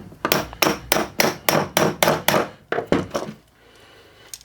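A hammer taps at a part on a Locomobile steam engine being stripped down, about ten sharp, evenly spaced metallic blows in quick succession, close and loud, before falling quiet.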